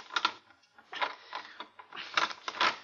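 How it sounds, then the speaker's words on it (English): A bolt on a lock twisted as a radio drama sound effect: several short, close mechanical grinding and clicking bursts in an uneven rhythm, fairly quiet. "if I can twist this bolt."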